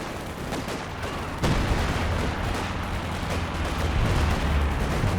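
Dense howitzer artillery barrage in a Company of Heroes 2 4v4 match, a continuous roar of overlapping booms and rumbling impacts with a heavier hit near the start.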